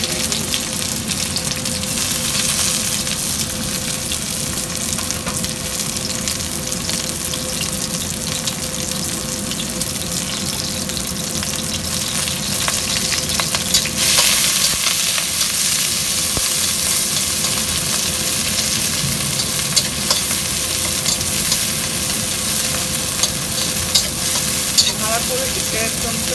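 Vegetables, ridge gourd and potatoes for a rohu fish curry, sizzle in plenty of oil in a pan. A steady, close frying hiss runs throughout, with clicks and scrapes of stirring that grow busier toward the end.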